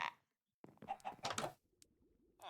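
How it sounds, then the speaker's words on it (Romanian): A chicken in a Minecraft hardcore game gives a few short clucks, quiet and brief, with near silence before and a faint scuffing after. "mă pupă găina"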